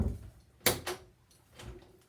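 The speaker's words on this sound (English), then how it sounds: "turn it to unlock, push the door shut, there you go," A door lock is turned and the door pushed shut during a doorknob installation, giving two close, sharp knocking clicks in quick succession followed by a softer thud, with no talk.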